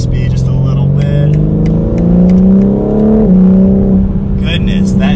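A 2021 BMW M4 Competition Coupe engine revs and climbs in pitch as it accelerates, loud and steady, with a voice talking over it.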